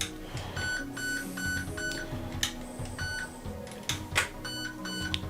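An airsoft HK416 AEG emits a series of short electronic confirmation beeps while its fire mode is being programmed, set against a busy background of music.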